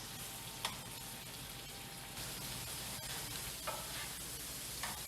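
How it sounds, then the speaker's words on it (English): Apples cooking in a pork marinade in a pan, a faint continuous sizzle like light rain with occasional soft clicks of stirring, no speech. "I want to coat the apples in all of this porky marinade goodness. And I'm going to let them cook for about 5 minutes."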